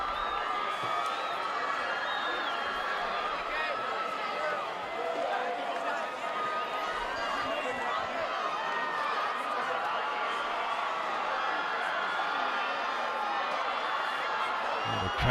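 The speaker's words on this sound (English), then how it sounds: "the crowd's in a pretty good frenzy now" A high school football crowd at Chatfield vs Lakewood roars in a frenzy after an extra point, a continuous dense wall of cheering, whoops and shouts with a commentator talking over it.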